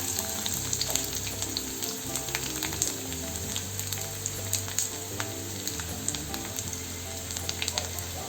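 Dried red chilies and garlic sizzling in hot oil with cumin and mustard seeds, a steady dense crackle and spatter close by with small pops throughout, no talking.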